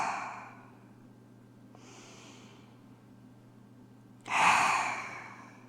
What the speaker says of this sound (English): Come back to focus on the breath, the inhale and the exhale.